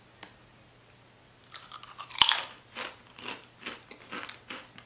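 Candy from a Universal Yums holiday box being bitten and chewed: one sharp, loud crunch followed by a run of softer, rhythmic chewing crunches up close, with no talking.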